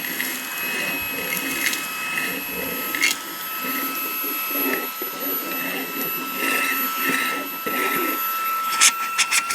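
A Fanttik Robustclean Slim V8 Apex handheld vacuum, black model, runs steadily with a constant whining motor hum and rattling debris clicks, close and loud, with a voice talking faintly underneath.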